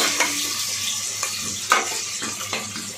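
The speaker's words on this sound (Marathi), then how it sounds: "तर इकडे टाकले हे कांदा भाजायला" Onions fry in a pan for biryani, giving a continuous close sizzle with a few light scraping taps of a spoon as they are stirred.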